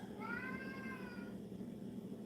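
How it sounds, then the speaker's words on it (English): A single drawn-out cat meow, clear and fairly close, rising then gently falling over about a second against a quiet kitchen background. "Tat thinks you're a cute kitty."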